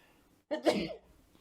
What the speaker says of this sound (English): So this is not a good time to sneeze.